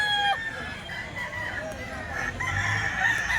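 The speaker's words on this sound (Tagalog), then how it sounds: "Yan, magagandang manok." Several chickens cluck and a rooster crows amid faint background chatter, a busy outdoor poultry scene.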